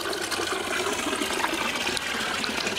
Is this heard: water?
yes